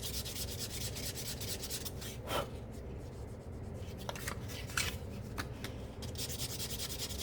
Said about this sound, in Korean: 600방 정도 사포로 다듬어 줍니다.